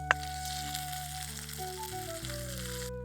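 Red chilli and asafoetida tempering sizzling hot as it goes into curd rice, a short, steady close crackle and hiss with a faint clink at the start, no voices.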